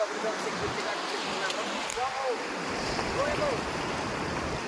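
Sea waves wash steadily onto the sand at a village beach in Adavipalem, a broad, continuous surf roar with wind buffeting the microphone and faint voices in the background.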